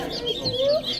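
A Muscovy duckling held gently in a hand gives a steady run of high, thin peeps. The calls are close and continuous, with soft handling noise around them.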